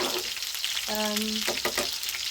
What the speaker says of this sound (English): I normally stir my rice